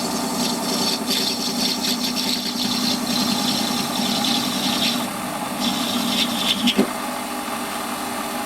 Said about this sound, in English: got the parting tool up and that's still running backwards